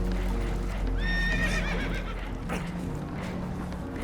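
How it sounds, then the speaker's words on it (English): Spooked horses whinny in Red Dead Redemption 2, a single shrill, wavering neigh over a loud, rumbling background of rushing water and hooves, close and prominent. "Horses are spooked"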